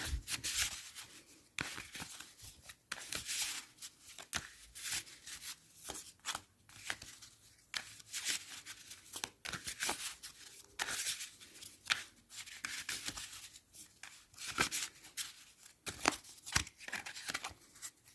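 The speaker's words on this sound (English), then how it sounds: "This deck is really good to shuffle." A tarot card deck is shuffled again and again in quick riffling bursts, quiet and close, with no talking.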